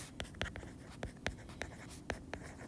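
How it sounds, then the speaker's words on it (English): Pen or pencil writing a note on paper during a math lesson on subtracting mixed numbers, with short scratchy strokes in an irregular rhythm, close and quiet, with no talking. "So I'm going to go ahead and just write this as a note."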